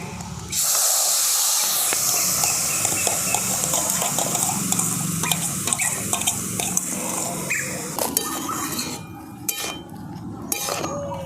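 Raw mango pieces coated in salt, turmeric and sugar dropped into a hot wok, a sudden sizzling hiss that swells and persists, dotted with clinks and scrapes of a utensil against metal, close and fairly loud.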